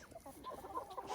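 Hens of several breeds — Cochin, red Wyandotte and French copper Marans — cluck and murmur close by in a steady, overlapping chatter of short calls, with no talking.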